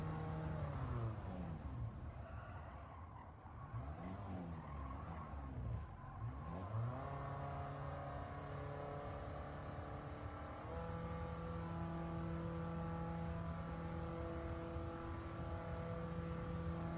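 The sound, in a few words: car engine rumbling at 5,000 rpm in Gran Turismo 7 video game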